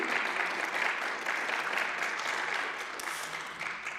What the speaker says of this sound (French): On peut applaudir, oui.